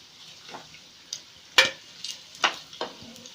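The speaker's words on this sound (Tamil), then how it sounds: "இப்போ இது நல்லா ஃப்ரை ஆகிடுச்சு." Potato-stuffed bread rolls fry in oil, giving a soft sizzle with a few sharp ticks and clinks from turning them in the pan, close and quiet, with no talk.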